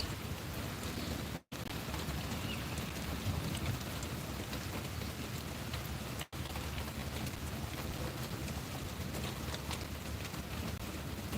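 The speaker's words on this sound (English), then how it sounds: "We have a lot of rain here in Connecticut." Heavy rain falls on a Connecticut morning, a dense, loud, even wash of drops hitting surfaces, broken by two brief dropouts in the sound.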